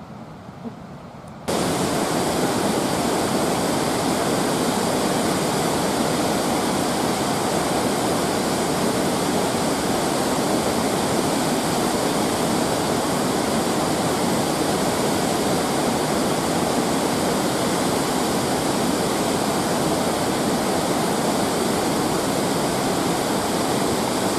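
A waterfall in North Yorkshire roars in a dense, unbroken rush of falling water that holds steady and loud for over twenty seconds after a brief quiet start.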